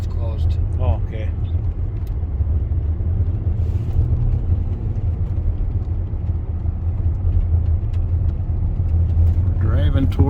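A car driving through snowy Yellowstone National Park in winter, toward Mammoth, gives a steady, loud low engine and road rumble throughout, with brief faint voices near the start and end.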